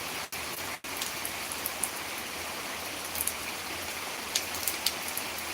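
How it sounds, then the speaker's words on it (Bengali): Heavy rain falls in a sudden storm driven by strong gusting wind, a steady dense hiss of water on surfaces with faint scattered drips and no voices. "এই বৃষ্টির পাশাপাশি প্রচুর পরিমাণে এই মুহূর্তে বাইরে কিন্তু ঝোড়ো হাওয়া বইছে"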